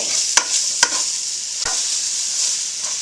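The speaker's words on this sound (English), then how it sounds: "there was a little bit of grease left in here, and that's what I am using to saute." Mushrooms sauteing in leftover ground beef grease in a pan for Salisbury steak, a steady close sizzle broken by a few sharp utensil clacks against the pan, with no voices.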